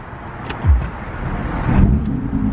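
A Porsche GT3 engine starts up with a brief starter whir and a deep rising catch at close range, then settles into a low, steady idle rumble that swells again near the end.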